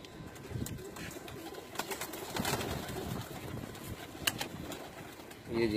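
Waziristani-breed pigeons on a rooftop in Abu Dhabi coo softly and steadily, with occasional wing rustles and light movement, fairly close and heard without talk.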